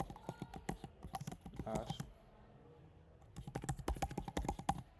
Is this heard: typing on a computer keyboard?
yes